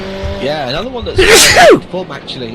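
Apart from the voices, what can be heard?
sneeze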